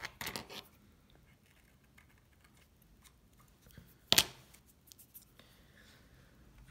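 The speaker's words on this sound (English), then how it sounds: "And I cut it away like this." A hand blade cuts material away from a wooden hidden-compartment box, giving one sharp, close scraping cut amid faint handling clicks and scratches in a quiet room, with no talking.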